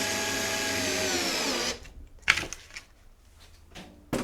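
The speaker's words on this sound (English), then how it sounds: "This is a wimpy drill." A small, underpowered cordless drill whirs steadily and fairly loudly for about a second and a half, then cuts off. A few handling clicks and knocks follow in the quiet.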